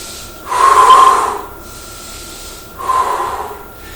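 Two forceful breaths puffed out through the nose and mouth during a leg warm-up exercise, each a hissing burst lasting under a second, loud and close, separated by a quiet pause.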